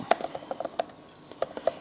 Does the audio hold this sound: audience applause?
no